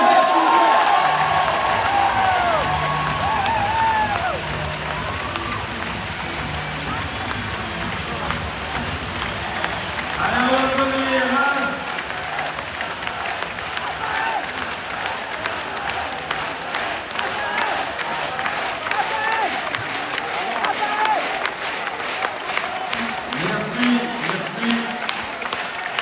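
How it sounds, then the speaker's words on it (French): Crowd applause and cheering at an end-of-season awards ceremony for the BBH club, a steady wash of clapping and voices filling a large arena for most of the clip, with music and speech mixed in underneath. "J'aimerais qu'on applaudisse bien fort une nouvelle fois Raphaël"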